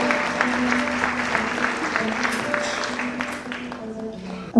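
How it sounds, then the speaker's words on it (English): An audience at an evening music show in Nairobi applauds steadily, a dense wash of clapping with faint voices underneath, tapering off near the end. "Round of applause for her, please."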